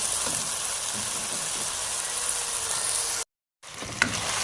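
Chicken fries in a pan with a loud, steady, close sizzle and crackle that runs throughout, broken by a brief silent gap near the end, then resumes.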